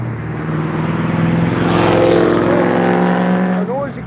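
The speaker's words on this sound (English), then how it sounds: "I got to punch on the gas, let them know we're here. And they're noisy cars." A noisy car engine revs and roars close by, swelling to a sustained loud drone with a harmonic growl before easing off near the end.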